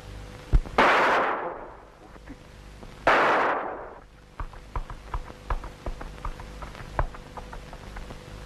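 Two loud gunshots from a 1945 film set at a mountain pass crack out a couple of seconds apart, each with a long echoing tail, followed by a string of lighter sharp taps.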